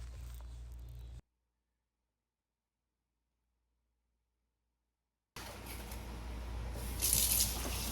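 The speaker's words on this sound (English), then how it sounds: "Wash your blueberries thoroughly." Running water splashes while blueberries are washed in a kitchen, a tap-like gush that cuts out into silence for several seconds and then resumes louder.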